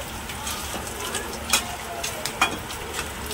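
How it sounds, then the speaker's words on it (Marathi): A spoon stirs khapli wheat kheer in a pan over a soft bubbling hiss, with a couple of brief scraping clicks against the metal. "हलवीत राहायचं, चांगलं हलवून घ्यायचं होईपर्यंत"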